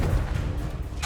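A Confringo blasting spell explodes in Hogwarts Legacy, giving one continuous booming burst of low rumble that fills the short moment at steady loudness, with a sharp crackling flare at the very end.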